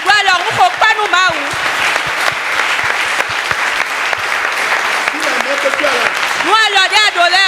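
A church congregation at a Sunday worship service breaks into loud, sustained applause for the Lord. A preacher's voice rises over the start and again near the end.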